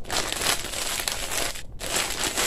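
A small clear plastic zip bag crinkles loudly and continuously up close, with dense crackling rustles and one brief pause before the handling resumes.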